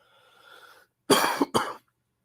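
Two short, sharp coughs close to the mic, following a faint quiet tone, then silence.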